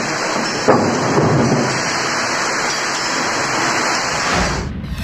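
Steady, heavy rain pours down with a continuous broadband roar and a low rumble of thunder underneath, recorded outdoors in Uttarakhand during a cold wave with intermittent showers, with no voices over it.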